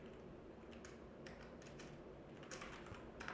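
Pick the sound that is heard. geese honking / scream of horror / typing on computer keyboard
typing on computer keyboard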